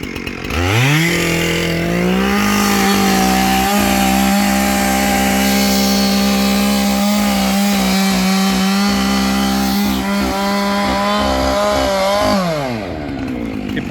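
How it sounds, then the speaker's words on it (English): A chainsaw runs at a steady, loud, high-revving whine for about ten seconds while cutting into a tree beside houses, the pitch dipping slightly under load before the engine winds down at the end. "He points his chainsaw in the direction he wants it to go"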